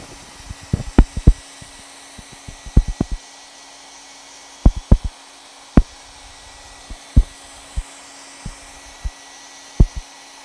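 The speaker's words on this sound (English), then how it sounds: "let's hit it with the blow dryer real quick." A blow dryer roars steadily throughout, with scattered sharp knocks and taps sounding over the constant airflow.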